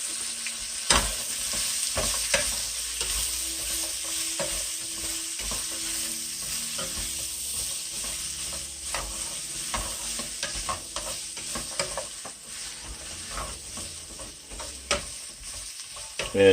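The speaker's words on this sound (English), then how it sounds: "So we're going to put our vegetables in here. Get them a light saute" Vegetables sauté in a pan with a steady close sizzle and frequent scraping stirs, continuous and alone without any voice.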